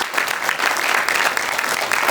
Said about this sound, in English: can we have a huge round of applause for all our guests?